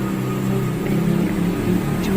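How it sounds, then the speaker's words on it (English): Continuous low roar of traffic coming through a window, a steady engine rumble with no breaks that stays moderately loud throughout. "the sound of traffic can be heard roaring through the window"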